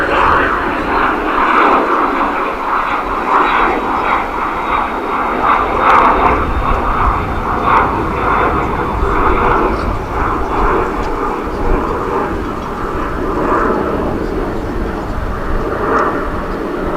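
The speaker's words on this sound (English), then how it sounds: "this will be American Airlines Flight 1049 and Airbus A319 arriving from Monterrey in Mexico" An American Airlines Airbus A319 arriving at DFW International Airport, its engines a steady, loud broadband roar that holds throughout, with people talking over it.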